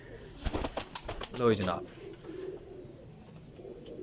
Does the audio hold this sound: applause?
no